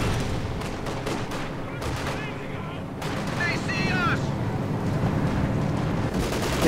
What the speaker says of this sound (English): Now you use the barrage.